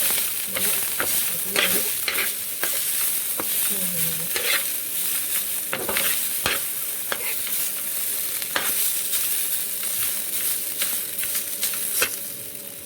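Drained chowmein noodles sizzle in hot oil in a pan while a utensil stirs and scrapes them in repeated sharp strokes, close and continuous, with no talking.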